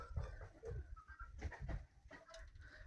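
Pigeons coo and flutter softly nearby, their faint low calls mixed with light rustling and other bird sounds.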